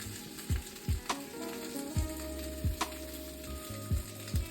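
Chicken sizzles in a frying pan, a steady close crackle of hot oil punctuated by several soft knocks and stirring bumps.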